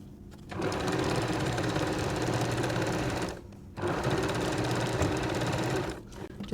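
A sewing machine stitching a quilt seam in two close, loud, steady bursts of rapid mechanical whirring, broken by a short pause.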